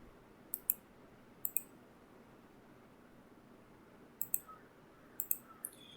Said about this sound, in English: After clicking this apply now button